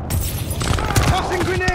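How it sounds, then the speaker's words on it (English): A stun grenade goes off in the Call of Duty: Vanguard video game, a short dense burst of booms and shattering crackle amid game noise, with a shouted voice mixed in. "Tossing stun grenade!"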